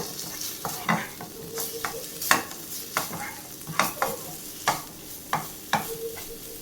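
Egg masala being stirred and mixed in a pan, a spoon scraping in repeated close strokes about every half second over a faint steady sizzle, no voices.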